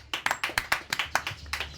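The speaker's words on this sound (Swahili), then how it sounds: "Pigie Bwana makofi mazuri." A church congregation claps in praise during a sermon on unity, about a dozen crisp, evenly spaced claps in a brisk steady rhythm, close and clear.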